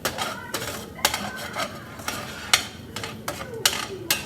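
Eggs being scrambled in a frying pan, with repeated sharp scraping strokes at a quick, uneven rhythm over a faint sizzle, close and moderately loud.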